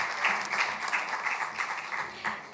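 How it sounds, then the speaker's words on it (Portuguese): Conference audience applauding steadily during introductions of speakers at an international participatory democracy gathering, a dense wash of many hands clapping with no voices over it. "Uma salva de palmas"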